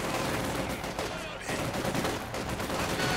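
Dense, continuous small-arms and machine-gun fire rattles through a Company of Heroes 2 battle, a loud, unbroken wall of shots and battlefield noise.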